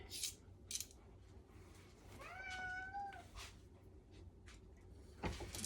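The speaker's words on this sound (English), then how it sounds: "Hear the cats meowing" A cat lets out a short run of drawn-out meows, faint against a steady background hum in a kitchen where steak and deviled eggs are being prepared for an Easter dinner.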